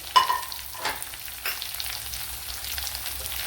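Finely chopped medium-sized onion hits hot oil in a pan, giving a sharp initial sizzle that settles into steady, moderately loud frying with a stir or two.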